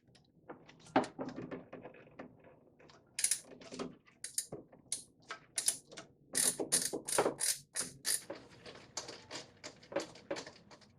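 Socket ratchet on a 19mm crankshaft pulley bolt of a 1999 Acura RL, giving close, quiet bursts of rapid clicking with short pauses between strokes.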